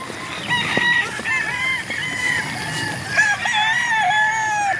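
Stag roosters crowing and clucking close by in a poultry yard, several overlapping crows and short clucks rising and falling, loud and without talk.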